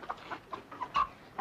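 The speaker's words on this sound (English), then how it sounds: "What'll I do with this chicken" A chicken clucks in a quick run of short, soft, uneven notes, close by and fairly quiet, in a wartime combat drama scene.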